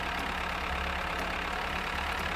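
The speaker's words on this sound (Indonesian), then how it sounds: "ini traktor mesti gue pindahin dulu" A tractor engine idles in the Farmers Life video game, a steady low mechanical rumble holding even and unbroken for a few seconds.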